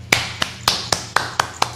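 A few people clap to welcome a guest speaker. About seven sharp, evenly spaced claps sound close and fairly loud, then they stop, with no voices over them.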